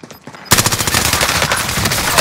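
Rapid automatic gunfire from a Call of Duty: Modern Warfare firefight bursts in after a quiet half-second and keeps up a loud, dense, continuous rattle to the end.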